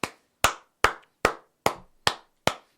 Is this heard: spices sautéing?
no